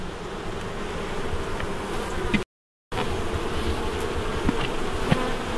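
Honey bees swarm and buzz around an open hive during an inspection, a dense, steady drone that stays loud and close throughout, broken only by a short gap of silence partway through.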